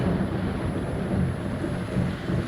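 Thunderstorm with a heavy rain downpour outside a house, a steady dense roar of rain with low rumbling, loud and continuous throughout.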